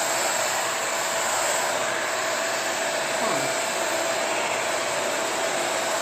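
A Shark Rotator or Navigator Powered Lift-Away vacuum cleaner runs steadily on upholstery, giving a loud, continuous whooshing motor hum throughout with little change in pitch.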